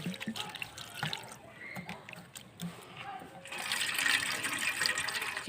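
Water pours and trickles over soaked flattened rice (chira) being rinsed, with sporadic splashes building to a steadier running flow near the end; someone speaks during the early part.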